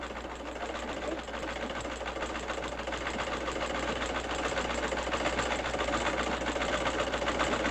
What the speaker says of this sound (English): just take the old sewing machine and run it on the sewing machine